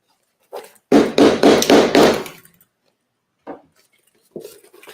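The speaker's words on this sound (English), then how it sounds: "I'm just going to hammer it right on my table here." A hammer strikes a leather seam laid on a tabletop, four quick, close, solid knocks in a row, followed by a few lighter isolated taps after a pause.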